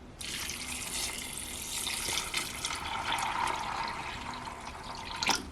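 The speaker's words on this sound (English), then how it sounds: "Here are the beans in my whatever pot, and now I'm just going to add water to this." Water runs steadily into a pot of rinsed, soaked 16 bean soup mix in an Aroma cooker, a continuous splashing pour lasting several seconds with a brief louder splash near the end, no talking.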